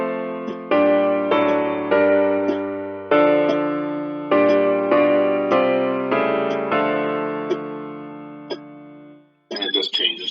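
Hymn chords on a keyboard, including inversions and altered seventh chords, struck as a slow sequence of about ten sustained block chords that decay between strikes, followed by a brief burst of talk at the end.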